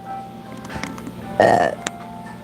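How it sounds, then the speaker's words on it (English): A single loud, throaty burp comes up partway through, close and clear, over a low background hum and faint talking. "And another burp."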